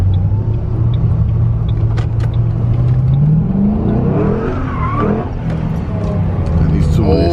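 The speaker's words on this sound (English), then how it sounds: "V8 BMW, old." An old BMW V8 idles and revs at a car meet, its deep engine rumble loud and continuous throughout, building slightly midway, with crowd voices murmuring underneath.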